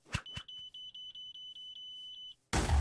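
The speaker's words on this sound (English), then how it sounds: "change the explosive Batarang sound from a ticking sound to a beeping sound" Beeping explosive Batarang in the Superheroes Unlimited video game: two sharp thuds, then a regular series of about ten high electronic beeps at a steady pace, ending in a loud burst of noise as it detonates.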